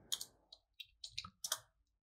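A computer keyboard is used to type a Java version-check command into an Ubuntu terminal: about seven sharp, quiet key clicks, close and unevenly spaced, with no talking.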